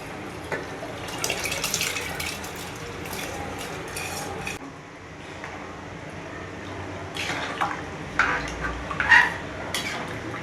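Soaked basmati rice is stirred into red gravy in a pot. There is a wet, clattering spoon-and-pot sound with splashy liquid movement, and heavier scraping bursts toward the end.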